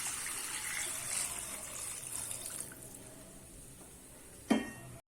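About 600 ml of water is poured into a pan of sautéed vegetables for millet noodles, a soft steady gush and hiss that fades, then a brief louder splash near the end.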